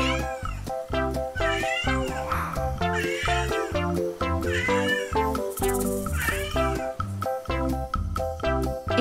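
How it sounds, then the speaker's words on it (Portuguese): A cat meows repeatedly, loud and close, in a series of drawn-out, wavering cries with short gaps between them. "Desde o ronronar até o miado, cada som pode indicar uma emoção diferente."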